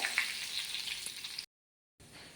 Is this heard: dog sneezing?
no